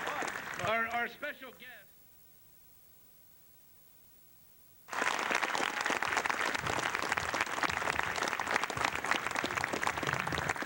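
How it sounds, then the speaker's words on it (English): A room full of people breaks into loud, sustained applause for martial arts guest Remy Presas, rising abruptly after a short spoken introduction and a pause, then continuing steadily to the end. "let's give a big round of applause"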